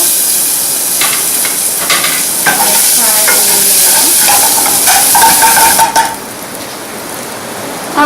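Onions hit a hot pan for Chinese fried rice, a loud close hissing sizzle with stirring clatter that carries steadily before easing off near the end, no speech.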